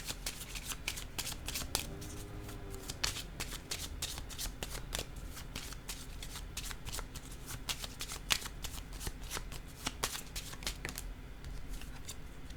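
Tarot cards are shuffled and laid down in a quiet room, a rapid run of dry flicks and soft slaps that continues steadily and close to the mic.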